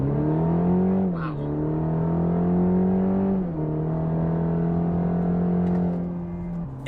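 A 2020 Cadillac CT4 in Sport mode accelerates with its turbocharged engine, its steady drone rising through the gears with brief dips at each shift while the car pulls hard from inside the cabin.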